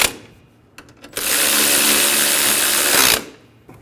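A power tool whirs for about two seconds, steady and loud at close range, while bolts are snugged down on a 2011-2014 Hyundai Sonata during a starter replacement. Short clicks and handling noises come before it.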